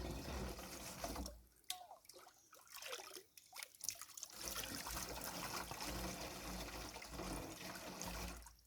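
Continuous rushing water streams and trickles steadily over rocks, fairly close, with a brief dip in flow partway through.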